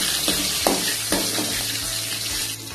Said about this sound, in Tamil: கூட ஒரு 4-5 பல்லு பூண்டு, இது எல்லாத்தையும் போட்டு நல்லா வதக்கிக்கோங்க.